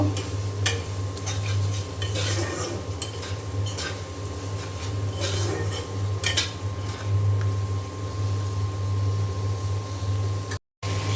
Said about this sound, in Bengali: এখন মশলা খুব ভালো করে আমি কষিয়ে নেব